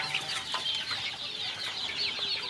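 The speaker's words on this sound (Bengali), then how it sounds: "যেমন এই মুরগিগুলো দেখছেন, এই মুরগিটা সারা কোনো সম্ভবই না।" Chickens cluck and chatter on a poultry farm, a busy overlapping flock sound close by and fairly loud, with no talking.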